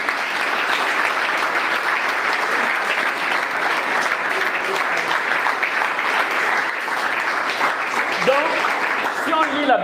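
A church congregation claps in praise during a service, with steady, dense applause lasting several seconds and voices calling out underneath.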